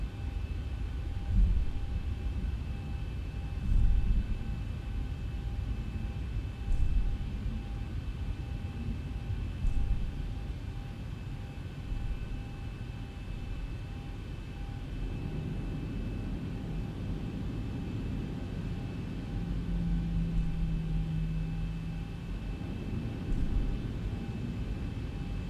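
A Boeing 737-900 in X-Plane 11 takes off: a steady low engine roar and rumble holds throughout, with a few soft thumps early on and the engine tone rising toward the end.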